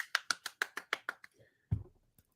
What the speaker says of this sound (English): we're clapping more now because we've realized that Pookie likes to clap